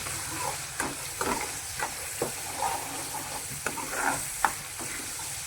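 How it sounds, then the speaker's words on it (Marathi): Homemade ground mutton masala frying in hot oil for a village-style fish curry, a continuous sizzle broken by repeated crackling bursts and spatters as it is stirred, close and fairly loud with no talk. "तेल तापलं आता, मसाला वाटलेला आहे, टाकत्याच्या धार टाकलेली आहे, त्याच्यामध्ये मसाला त्याला तळून घेते।"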